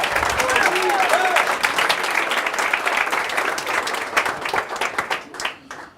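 At a speech event, the audience breaks into warm, close applause that holds strongly for several seconds, then breaks into sparser claps and fades as it dies away.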